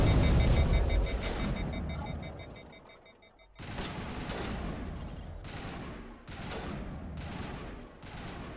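Sustained bursts of automatic gunfire from the sci-fi shooter game Mass Effect, loud and dense, with a brief lull near the middle before heavy firing resumes in repeated volleys.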